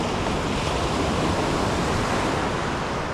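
Ocean waves at sea sound as a constant loud rush of surf and wind, dense and unbroken for a few seconds, with no voices.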